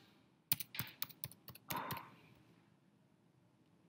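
Rapid keystrokes on a computer keyboard enter a username and password, a quick burst of distinct clicks followed by a few slower taps, close and fairly quiet.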